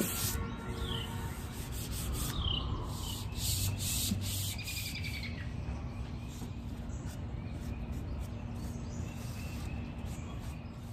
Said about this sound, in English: I've taken a 400 grit sand pad, I've wrapped it around a sanding block, and I'm going to lightly sand it